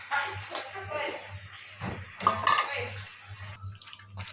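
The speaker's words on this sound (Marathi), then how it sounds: "पाच मिनटं आपण यावर झाकण ठेवून झाकण ठेवणार आहे" A lid placed over a pan of pav bhaji, a few light metallic clinks and scrapes close by, with a voice talking through much of it.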